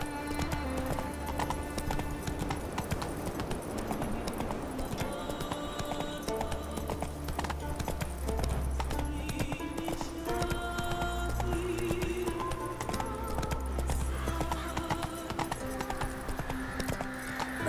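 Roach, a horse in The Witcher 3, gallops with steady, loud clip-clop hoofbeats throughout, layered over game music with no talking.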